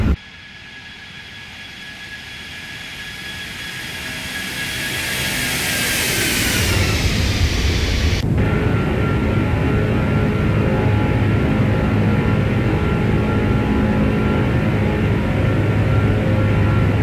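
An Airbus A340-600 jet sweeps past in the X-Plane 12 flight simulator, a whining roar that swells over several seconds, then drops sharply in pitch and settles into a loud, steady rumble.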